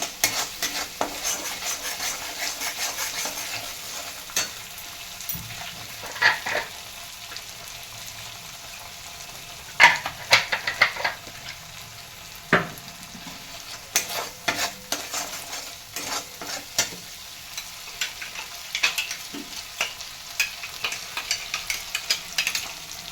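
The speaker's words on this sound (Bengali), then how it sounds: "দিয়ে দেবো অল্প একটু কাশ্মীরি লঙ্কার গুঁড়ো, দিয়ে মশলাটা ভালো করে কষাতে থাকবো।" Spice mix with Kashmiri chili powder being sautéed in a pan for shahi capsicum paneer, a low sizzle broken by repeated scraping and clinking of a spoon against the pan, close by with no voices.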